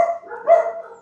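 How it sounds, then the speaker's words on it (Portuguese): Two quick dog barks close by, short and sharp with a brief gap between them, no other sound around. "aqui os cachorros, né?"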